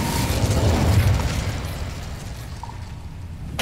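Incendio fire spell cast in Hogwarts Legacy: a whooshing, crackling burst of flame that peaks early then fades into a softer rumble, with a sharp click at the very end, close and alone without talk.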